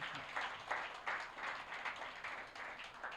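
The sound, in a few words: audience applause in church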